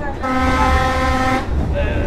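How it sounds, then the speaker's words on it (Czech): A car horn sounds one sustained, fairly loud honk of about a second, with a fainter tone trailing after and voices around it. "Zase zatrubí."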